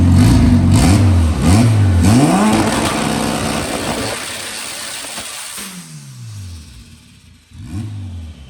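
A car engine built with DevCon epoxy revs loudly in repeated rising and falling bursts, close by, then fades as it drops toward idle before one more rev near the end.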